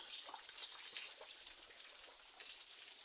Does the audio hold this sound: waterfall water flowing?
yes